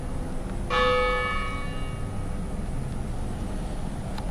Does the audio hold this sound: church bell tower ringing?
yes